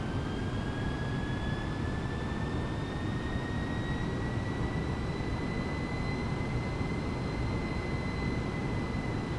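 An A318 airliner in Microsoft Flight Simulator accelerates, heard as a steady broad engine roar with a thin high whine rising slowly in pitch, even and continuous at moderate level with no talking.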